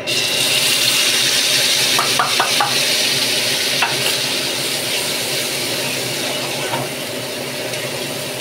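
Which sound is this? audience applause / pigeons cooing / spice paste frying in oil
spice paste frying in oil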